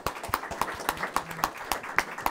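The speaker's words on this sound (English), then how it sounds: "another round of applause for our great speakers." Audience applause for a panel of speakers at a talk on clean energy partnerships, with about a dozen sharp, evenly spaced claps over a soft bed of scattered clapping, fairly quiet and distant, with no voices.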